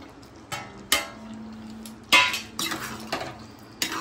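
A spoon clanks and scrapes against a pot while paneer, capsicum, tomato and boiled vegetables are mixed, giving several sharp metallic knocks at irregular intervals with quiet scraping between them and a faint ringing tone.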